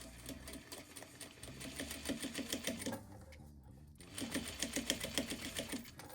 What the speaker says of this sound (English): we're just gonna stitch as close to the zipper as possible